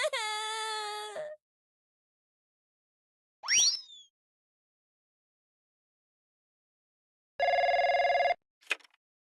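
Telephone rings in the mobile game Trickcal Revive: a loud electronic ringing tone lasting about a second, then a brief whine, then another steady ring and a short chirp, separated by silence.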